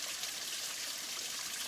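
Clear stream water flows steadily at a trail water source, a soft continuous rushing and trickling wash with no pauses or voices.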